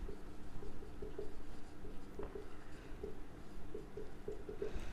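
Chalk or marker writing on a board during an accounts lesson, a faint, continuous scratchy scribble with small rhythmic taps as strokes are made, quiet and close with no one speaking.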